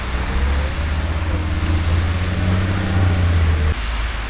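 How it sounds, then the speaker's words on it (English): A snow removal truck clears a road in winter, its heavy engine droning loud and close with a low steady rumble, then cutting off abruptly near the end, with no talk. "So this kind of trucks will be there, which will remove the snow."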